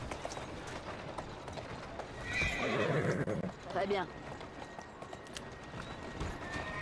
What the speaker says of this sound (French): j'avais complètement zappé que les chevaux ils se barraient quand on met le fumigène dans la gueule